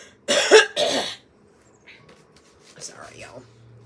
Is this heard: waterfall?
no